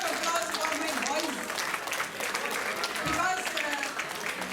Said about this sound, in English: please give a big round of applause for my boys